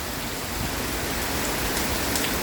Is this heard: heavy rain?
yes